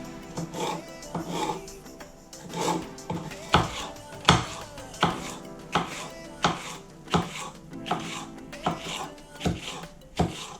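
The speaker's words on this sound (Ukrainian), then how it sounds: "перець нарізатиму соломкою" A knife chops bell pepper into strips on a board, giving a steady series of sharp, close thuds at an even, unhurried rhythm, loud and clear throughout.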